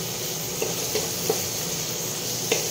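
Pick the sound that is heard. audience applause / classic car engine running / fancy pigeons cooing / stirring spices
stirring spices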